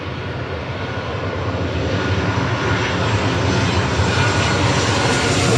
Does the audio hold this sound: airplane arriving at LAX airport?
yes